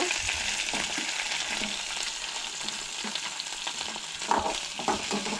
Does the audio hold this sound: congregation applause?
no